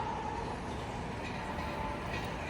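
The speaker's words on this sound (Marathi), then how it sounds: "ट्रेन आली ते बघ ट्रेन" A train rumbles steadily nearby, a loud continuous low roar of rolling wagons with no talking.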